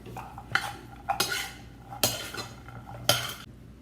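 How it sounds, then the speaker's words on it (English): Seasoned butternut squash pieces tossed in a skillet with a utensil, giving several distinct scraping clatters at a steady rhythm, close and moderately loud with no voices. "I'm going to toss it all up in my skillet to get it nice and coated."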